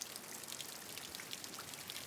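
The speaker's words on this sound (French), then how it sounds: "le son de la pluie" Steady rain falling, a dense wash of fine patter with scattered droplet ticks, constant and unbroken throughout.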